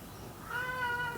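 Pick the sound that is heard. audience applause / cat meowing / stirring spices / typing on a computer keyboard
cat meowing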